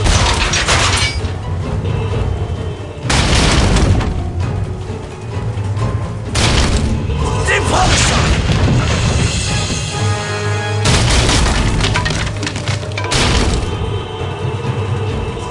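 Spell blasts from the Harry Potter and the Prisoner of Azkaban PC game, the Depulso spell, with several loud booming bursts about every three seconds over continuous game music and effects.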